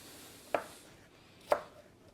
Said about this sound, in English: I'm just going to take those and just kind of cut those in half.